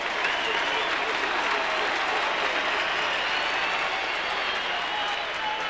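A 1992 Australian rules football crowd in Adelaide at a Crows versus North Melbourne match roars and applauds in a continuous, restless swell, with a commentator talking over it.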